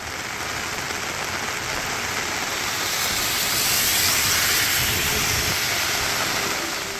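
Heavy rainwater rushes along roads after a downpour in the Radhapuram and Vadakkankulam area of Tamil Nadu, a steady loud broadband wash that swells slightly midway and continues without pause or talk.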